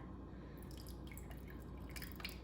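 Chicken marinade with chunky bits poured from a container into another, a steady close liquid trickle with small drips throughout, no voices.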